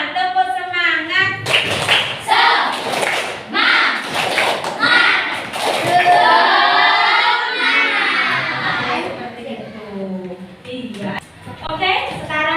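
Classroom of children performing the 'tepuk semangat' spirit chant, with bursts of rhythmic clapping mixed with loud shouted voices; an adult voice joins, and the clapping and chanting fill most of the stretch before fading.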